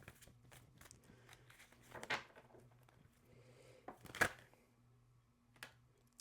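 Quiet, soft riffling and flicking of tarot cards, with a few sharper snaps and slaps standing out briefly against a hushed room.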